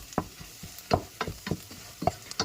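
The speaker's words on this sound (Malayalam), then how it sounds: "ഇനി നമുക്ക് ഇപ്പോൾ ഇട്ട് മസാലകൾ എല്ലാം ഒന്ന് ഇളക്കി കൊടുക്കാം" Masala spices stirred in a frying pan for Kerala-style chicken curry: about eight quick, close scraping strokes of a spoon over a soft sizzle, with no voices.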